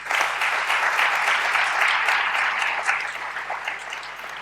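A conference audience at a public procurement congress applauds, sustained dense clapping that stays strong throughout and eases slightly at the end.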